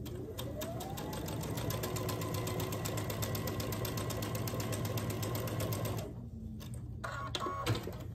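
Sewing machine stitching pieced quilt fabric at a quarter-inch seam, a fast even needle chatter running for about six seconds before stopping, followed by a few brief clicks and rustles.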